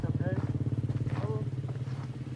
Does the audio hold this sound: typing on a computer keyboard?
no